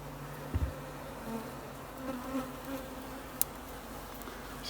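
Bees swarm around an old hive inside a wall, their buzzing a steady, close drone with a few louder passes near the start and a brief knock midway.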